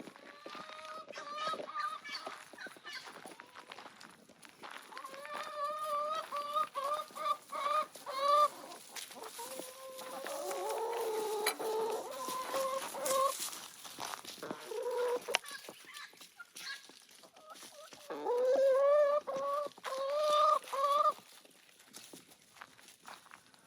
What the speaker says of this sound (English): And of course looking after the chickens.